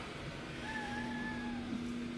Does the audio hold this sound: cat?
yes